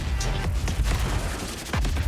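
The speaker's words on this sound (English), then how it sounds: "That's a lot of explosion!" Battle in the World of Tanks video game, with dense rapid bursts of gunfire and booming explosions in quick succession, loud and chaotic, a heavy blast near the end, no voices.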